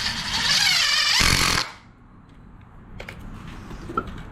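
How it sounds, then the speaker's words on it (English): A power drill whirs loudly for about a second and a half driving a screw into a wooden board, then cuts off, leaving quiet workshop handling noises. "You're gonna get your drill and you're gonna screw it in just like this."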